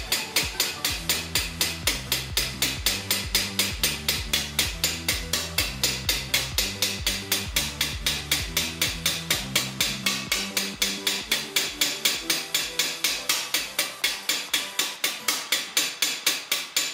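Roofing nails are hammered into a steel medieval close helmet in a steady, even rhythm of sharp metallic strikes, each ringing briefly, continuing alone for about fifteen seconds before the blows grow lighter.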